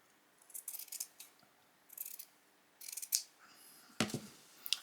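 Scissors snip threads while a hairband is made, several quick clusters of crisp metallic cuts separated by pauses, close and quiet with no talking.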